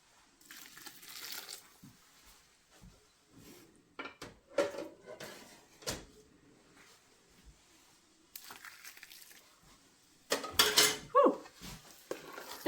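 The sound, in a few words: stirring bread and broth chicken dressing in a pan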